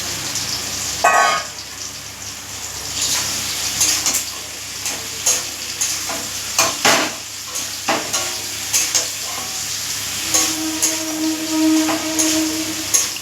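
Okra pieces frying in oil in a pan, a continuous close sizzle with repeated clattering knocks and scrapes of a spatula against the metal at an uneven rhythm, no voices.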